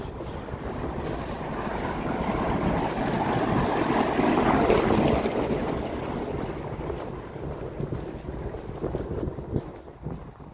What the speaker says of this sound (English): A little bit windy now here.